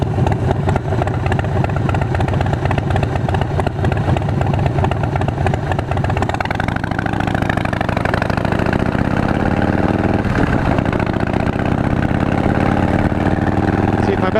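A built-up Harley big bore twin cam motorcycle engine idles steadily and loudly close by, with a lumpy, throbbing rhythm that holds throughout and no one speaking over it.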